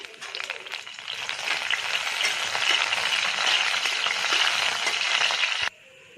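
Dried red chilies frying in hot oil in a kadhai on a gas stove, a loud, dense, steady sizzle that swells early, holds for several seconds, then cuts off abruptly near the end.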